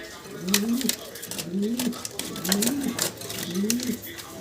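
A pair of coloured Gola pigeons coo nearby in a regular repeating pattern of four throaty calls, with sharp clicks and taps in between.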